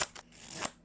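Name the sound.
Pharaoh shuffle of a Legends diamond finish playing card deck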